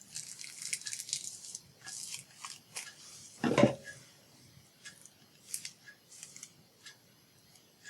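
Scissors trim loose bits from a craft piece, with one sharp, close snip standing out among faint handling noises and quiet rustling.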